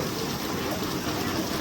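Heavy rain pouring down around a house, a constant broadband hiss of falling water with no letup, close and fairly loud.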